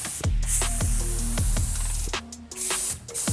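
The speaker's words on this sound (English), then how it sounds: "to do an application, you're just gonna very slowly, controlled, kind of even distance from the tire all the way around" Aqua Gloss tire dressing is sprayed in a slow, even pass around a truck tire, giving close, loud hissing bursts from the sprayer with short pauses between them.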